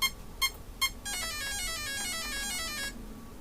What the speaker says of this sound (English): Wait for that confirmation beep, and we got forward and reverse.